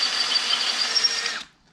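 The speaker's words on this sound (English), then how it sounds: "Doing some big drilling holes in a piece of steel." A power drill whines steadily through stainless steel for over a second, a loud high grinding drone that cuts off abruptly.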